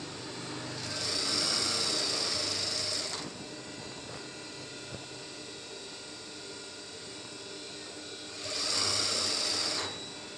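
A sewing machine stitches a trouser seam in two bursts of steady, fast whirring with a quiet pause between them, close and moderately loud.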